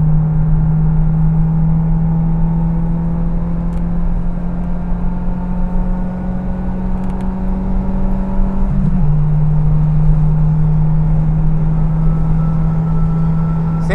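A loud, steady Ford Zetec Rocam 1.6 engine drones on a race track with a constant high whine throughout, running rough, a brief pitch shift partway through, with road and wind noise underneath.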